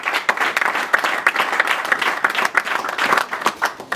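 A crowd at the installation of a new UDPS party office applauds with a quick, dense burst of clapping, loud and close, lasting a few seconds.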